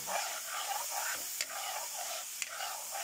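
Latik, coconut curds, cooks in a pan while being stirred, with a steady hissing sizzle up close and two sharp scrapes or taps of the spatula against the pan.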